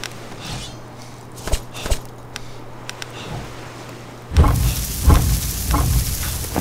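Meat cooking over a fire in the survival game Savage Lands, a soft sizzle and crackle with scattered clicks and light footsteps, swelling to a louder, denser frying hiss partway through.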